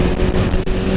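Strong wind roars steadily across a motorcycle rider on a 50cc bike, a loud, continuous buffeting rush with no speech.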